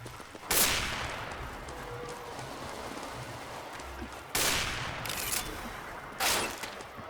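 Gunfire in the video game Counter-Strike: Global Offensive: three sharp bursts of shots over a constant background hiss, one near the start, one in the middle and one at the end, moderately loud.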